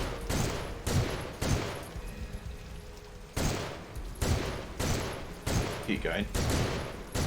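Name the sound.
gunfire in video game Soldier of Fortune II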